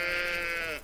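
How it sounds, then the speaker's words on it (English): A sheep in the farming game Agrar Simulator 2013 gives a single loud, close bleat with a wavering tone that lasts nearly a second and then stops abruptly. "There's a cow, sheep."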